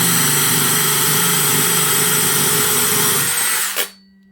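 A DeWalt 12V drill with a high-capacity battery bores with a 3/8 mortise bit, a loud, steady high-pitched whine and grinding that runs without bogging down, then winds down and stops abruptly near the end.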